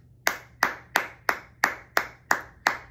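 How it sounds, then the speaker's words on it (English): Hands clap eight times in an even, steady quarter-note pulse, each clap crisp, close and alone, with no talking. "I'd be clapping quarter notes"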